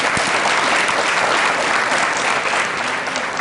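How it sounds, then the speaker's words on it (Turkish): Studio audience on the Turkish game show Bir Kelime Bir İşlem applauding a contestant, a loud, dense and continuous round of clapping that holds steady for a few seconds. "Kocaman alkış."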